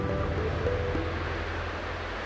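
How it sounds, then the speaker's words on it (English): Ocean waves in the game Honkai: Star Rail: a constant, rushing wash of surf fills the brief moment, with faint tonal music beneath it. "I can still clearly hear the sound of the waves"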